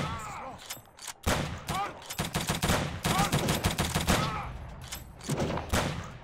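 Rapid bursts of gunfire crackle loudly in clusters, with automatic shots from the video game Wolfenstein Vendetta Dilogy mod over a faint voice between volleys.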